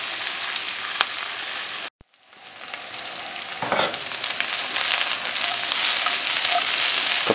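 Sliced yellow onion fries in a pan with a steady, bright sizzle that cuts out briefly, then returns and builds, with occasional crackles and pops over the continuous hiss.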